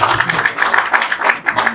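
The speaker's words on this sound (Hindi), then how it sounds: "तालियों के गड़गड़ाहट थोड़ी कम है।" Audience applause at a workshop seminar: a short burst of dense, moderately loud clapping from a group, with quick irregular claps throughout.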